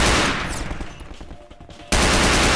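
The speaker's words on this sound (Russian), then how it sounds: "Здесь стрельба вовсю, война." Gunfire in the Half-Life 2 Tray Mod video game, a loud, dense burst of rapid shots that fades briefly before another sharp blast of firing starts.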